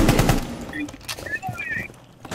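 Rapid gunfire in the video game Rainbow Six Siege, close bursts mixed under an excited voice talking over it.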